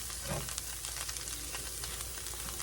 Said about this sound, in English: Gotta get this stirred around, let that cheese get melted.